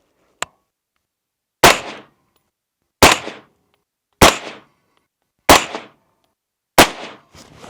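A suppressed Haenel CR223 rifle fires six sharp, loud shots, one isolated crack followed by five evenly spaced reports a bit over a second apart, each with a short decaying tail.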